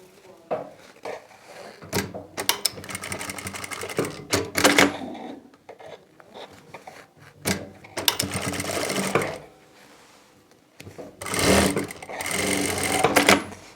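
A sewing machine stitches a kurti shoulder seam in several rapid mechanical bursts separated by short pauses, loud and close, with faint handling clicks between runs.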